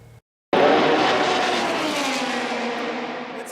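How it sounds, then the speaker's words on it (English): An Indy car engine roars past at Indianapolis Motor Speedway, a loud sustained high-pitched wail that bursts in after a brief silence and slowly fades as the car pulls away. "The roaring of the engine of the Indy car echoing throughout the city"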